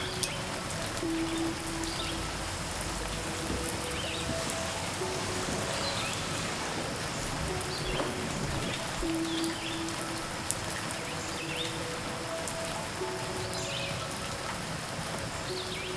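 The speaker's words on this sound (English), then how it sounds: "the rain falls harder and harder" Steady, dense rainfall pours down continuously, a broad hiss of drops hitting surfaces, with a few faint bird calls in the background.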